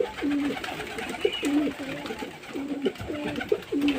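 Pigeons cooing repeatedly in low, throaty calls, close by, with a steady rhythm of coos over faint background noise.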